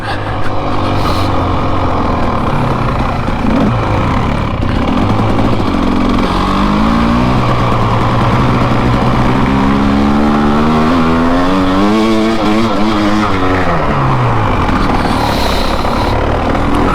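A dirt bike engine revs and drones continuously on a trail, its pitch rising and falling with throttle changes, loud and close with wind and rumble throughout.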